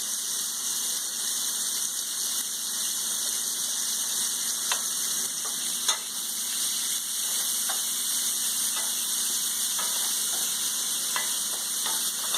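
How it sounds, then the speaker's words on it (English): Peppers and onions sauté in a pan with a pinch of salt for shrimp and grits, making a constant bright sizzle with scattered crackles and stirring taps, close by and without speech. "your peppers and onions need to take a little bit longer time because they need to kind of sweat down just a little bit"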